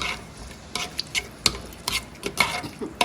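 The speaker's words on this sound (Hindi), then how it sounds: "जब तक ये फ्राई होते हैं ये देखें, ये फ्राई हो रहे हैं।" Ingredients for gulatti frying in a pan, giving soft crackling and sizzling with scattered stirring clicks and pan taps, close and fairly quiet, with no talking.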